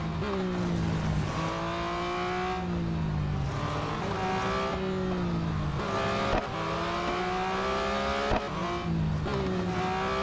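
A 2021 Porsche 911 GT3 engine in the Real Racing 3 racing game drones steadily, its pitch rising and falling through gear changes as it races and overtakes slower cars, loud and continuous with game music or effects underneath.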